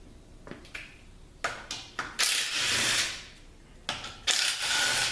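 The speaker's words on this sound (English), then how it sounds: "we'll take this input speed sensor out here" Input speed sensor being pulled from a 4T40E automatic transmission during teardown, heard as a few close metallic taps and clicks followed by two longer bursts of scraping, rasping friction, with no talk.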